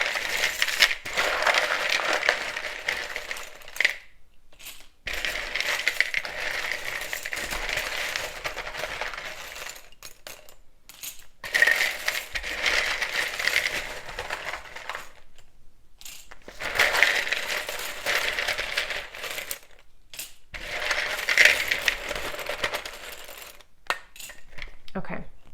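Deck of tarot cards being shuffled by hand, a series of loud crisp riffling bursts, each lasting several seconds and separated by brief pauses, close up with no talking.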